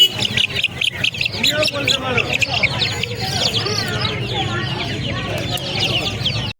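Chickens, including silkie fowl, cluck and chirp loudly and continuously at a crowded poultry market, with many birds calling close by while people talk in the background.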